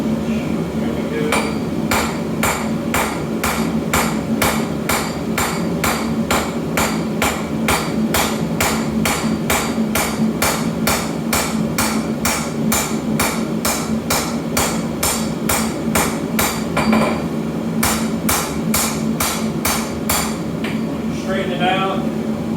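Hammer blows forging a hot nakiri knife blade, a long steady train of sharp ringing metallic strikes at an even rhythm, loud and close, with a brief pause near the end before the hammering resumes.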